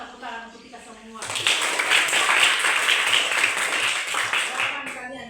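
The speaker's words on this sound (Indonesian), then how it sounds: "Coba tepuk tangan untuk kita semua." Classroom of students applauding together: a dense burst of clapping starts about a second in and holds steady to the end, loud and close, after a brief spoken bit at the start.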